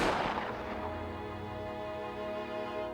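A gunshot in an animated scene as a shot strikes and breaks off part of a deer's antler: one sharp boom that opens the clip and fades into a ringing, tonal musical tail.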